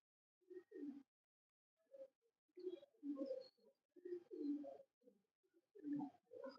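Pigeons coo in short soft bursts, several muffled throaty calls spaced irregularly with quiet pauses between, close by and alone without talk.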